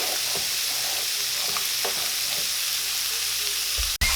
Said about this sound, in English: I'm just going to let that cook down a little bit